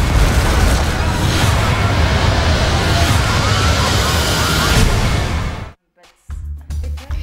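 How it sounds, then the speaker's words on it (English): A building blows up in a planned explosion on a film set. A huge, roaring blast and rumble fills several seconds at full loudness, then cuts off into near silence with a few scattered afterward noises. "that building is going to explode"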